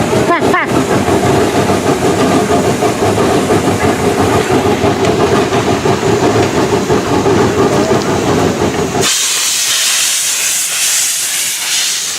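A steam locomotive runs tender first on a running inspection at a shop, loud and close with hissing steam and rhythmic chuffing that cuts off abruptly, leaving a fainter hiss.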